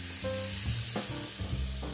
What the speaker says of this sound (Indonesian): Kemudian oseng-oseng ki sebentar,